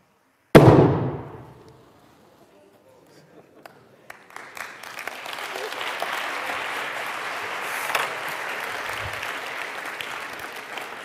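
Hydrogen gas explosion in a science experiment: one sharp, loud bang that fades fast, followed by a few seconds of quiet and then a long stretch of steady applause from a crowd.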